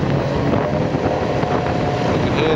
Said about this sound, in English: You can hear the engines